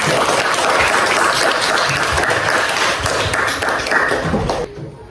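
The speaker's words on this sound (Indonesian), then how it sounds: "Tepuk tangan." Pupils in a classroom clap their hands together in a dense, loud burst lasting several seconds, the sound cutting off abruptly near the end.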